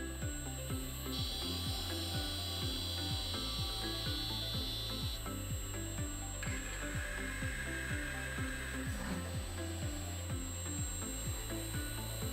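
A pump test bench run by a Schneider ATV600 drive in a multipump setup starts up as its motorized valve opens, giving a steady, loud mechanical drone with a regular rhythmic pulsing throughout and no talk.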